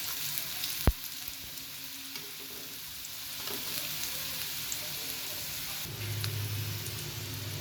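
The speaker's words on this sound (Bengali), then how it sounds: "এই যে ফ্রেঞ্চ ফ্রাইটা ভাজা হয়ে গেছে" Potato french fries sizzle in a little oil with a steady, crackling hiss close by, broken by a sharp knock early on and occasional stirring scrapes; no voices.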